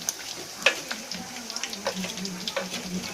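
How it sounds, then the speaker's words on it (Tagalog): Bagnet pork frying in hot oil that keeps spitting and splattering, with a constant crackling sizzle and scattered sharp pops at close range. "Tumatalsik siya, masakit yung mantika."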